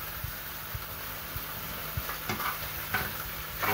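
Breakfast frying in a pan: a steady sizzle hisses throughout, broken by soft clinks and scrapes of stirring at irregular intervals, fairly close and moderate in loudness.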